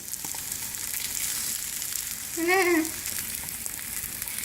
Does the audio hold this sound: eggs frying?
yes